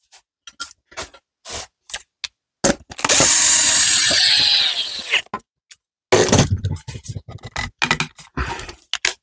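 A power drill drives screws into wood while building a small table, giving several short bursts and one long sustained whir with rising pitch, separated by quiet gaps and handling knocks.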